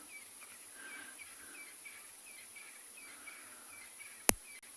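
Birds call at sunrise on an African safari: faint, repeated chirps spread across a quiet background hiss, with one sharp click near the end.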